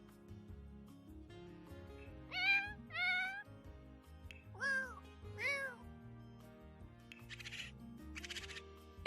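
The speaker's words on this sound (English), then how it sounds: "I'm just going to go ahead and show the different meows that your cats have" Pet cats in The Sims 4 Cats and Dogs meow three or four times in short, clear, rising-and-falling calls, spaced apart over quiet game music.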